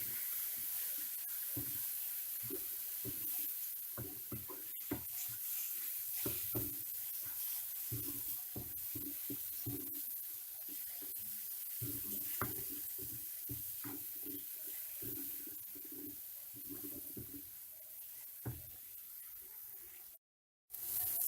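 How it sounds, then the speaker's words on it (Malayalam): Tomato puree for bhindi masala sautés in a pan, giving a soft, steady sizzle broken by repeated spoon strokes and light scraping, fairly quiet and close. "നമ്മൾ തക്കാളി ഇട്ടിട്ട് നന്നായി ഇതൊന്ന് നന്നായി വഴറ്റി കൊടുക്കാം"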